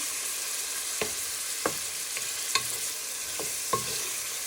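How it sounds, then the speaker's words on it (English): Pork sizzling in a pan, a steady close hiss broken by several sharp spatula scrapes and stirs at irregular intervals, no talk. "our pork is nicely cooking"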